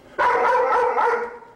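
A large, muscular, intimidating dog lets out a single loud, sustained bark-howl close by, lasting just over a second before fading.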